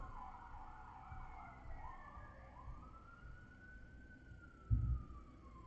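A wailing fire truck siren sweeps up and down, somewhat distant, over low traffic rumble, with a brief thump near the end.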